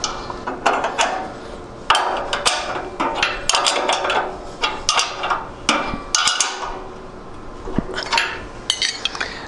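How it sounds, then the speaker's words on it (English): Metal wrenches tightening bolts on a mower blade guard, a close series of sharp clinks, taps and ratcheting metal knocks in irregular rhythm, with no talking. "Now retrieve your wrenches and tighten everything up."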